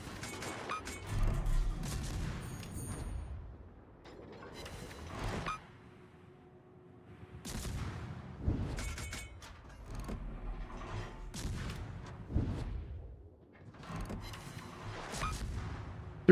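Naval guns fire in World of Warships, a series of heavy booming salvos with rumbling tails, repeating every few seconds at moderate loudness.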